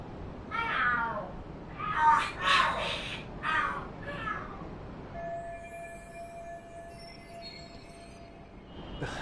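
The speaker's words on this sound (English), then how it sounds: "The hell are there cats fighting?" Cats fighting and screaming in the video game Lost Judgment: several loud, wavering yowls and screeches in the first half, then sustained tones and quieter ambience, with no talk.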